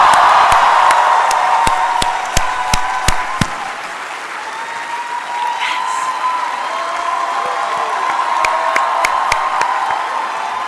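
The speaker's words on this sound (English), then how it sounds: "raise your hands when I count to 3 and stand up if you can and just start cheering and clapping." A large audience gives a standing ovation after a speech, with sustained applause and cheering and sharp individual claps cutting through the crowd noise.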